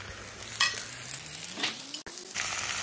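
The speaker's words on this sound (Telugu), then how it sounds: "మనం ఈ బీరకాయ ముక్కలన్నీ వేసాం" Ridge gourd pieces dropped into a pan of lightly fried onions give a steady close sizzle with stirring scrapes, a brief dip near the end before the frying noise swells again; no one talks.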